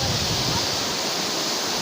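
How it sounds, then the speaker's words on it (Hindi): Manthokha waterfall in Kharmang valley roars as a dense, constant broadband rush of falling water, loud and close, with no break throughout. "वाटरफॉल के पास।"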